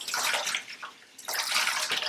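Tap water running onto solid dish soap at a sink, a loud close gush that dips briefly as the stream is interrupted, then resumes full, with no talk.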